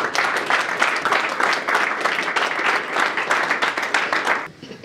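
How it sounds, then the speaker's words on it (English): Audience applause at a boxing press conference, sustained clapping from a moderately sized crowd with some cheering mixed in, staying loud and even before dropping off abruptly at the end. "Huge round of applause for Gracie and Lily, ladies and gentlemen."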